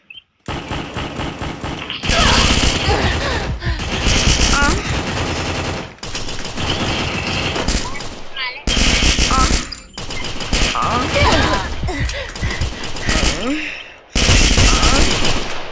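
Rapid gunfire from a video game, loud bursts of automatic weapon fire repeating in long runs with short pauses between them, with no talking.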